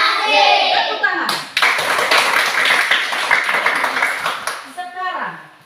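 Schoolchildren in an Indonesian classroom break into a burst of clapping for about three seconds, close and lively, with young voices chattering just before and after.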